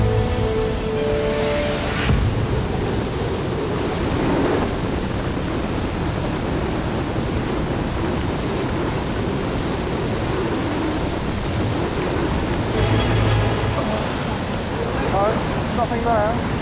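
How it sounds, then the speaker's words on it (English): Powerful river water surges and roars around legs of people wading, a dense, continuous, deafening rush that fills the whole stretch with little variation and no clear voices. "Peter tries to shield me from the huge surge that's pulling at our legs under the water."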